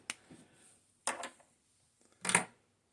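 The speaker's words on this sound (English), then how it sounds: "You can hear my dog probably scratching in the background." A few short, scratchy rustling bursts of a dog scratching, separated by quiet pauses, close by with no talking.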